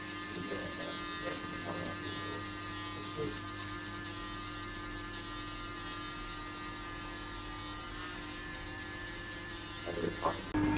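Close, continuous electric shaver buzz with a constant motor hum while shaving hair off during a buzz cut, with a few brief soft noises near the end.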